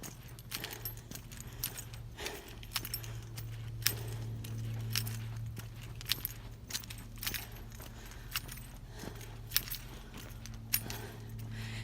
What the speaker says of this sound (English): So sorry for the jangle jangle.